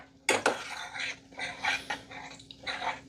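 A cooking pan of homemade ghee butter is shifted off direct heat, giving a couple of sharp metallic knocks and scrapes followed by softer clinks and shuffling of cookware, close and fairly quiet.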